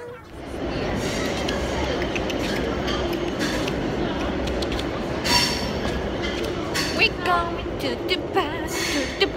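A train rumbles steadily close by, with wheel clatter and brief metallic squeals toward the end.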